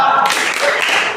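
Students at a madrasah aliyah clap together in a dense, loud burst of close group clapping for a spirit cheer.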